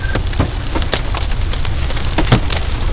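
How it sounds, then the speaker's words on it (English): Hail and rain pelt a car during a thunderstorm near Burlington, a steady loud patter of drops on the roof and windows broken by sharper, harder impacts scattered throughout. "Oh, the hail's getting big"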